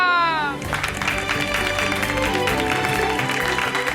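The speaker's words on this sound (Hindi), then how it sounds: "तालियां" Applause rises on a Hindi TV serial stage as a show opens, a continuous wash of clapping mixed with music, steady and fairly loud for several seconds.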